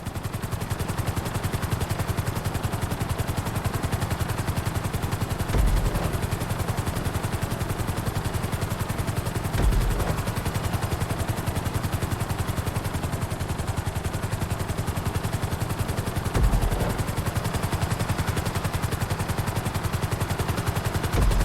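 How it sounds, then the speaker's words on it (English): A helicopter flies in Grand Theft Auto V during a flight school mission, making a constant loud rotor chop and engine roar with rapid rhythmic pulsing throughout, and no voices. "Bring the helicopter down gently onto the helipad."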